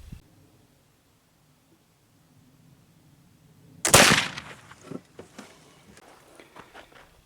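A black powder rifle loaded with a mesquite mystery-blend powder fires one loud, sharp report, followed by a fading rumble and a few scattered clatters and knocks.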